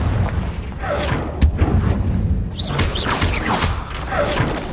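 Spell blasts from Hogwarts Legacy, a Confringo fire curse among them, land as heavy booming thuds and crashing impacts, one sharp hit standing out, mixed with clattering game effects and brief squeals.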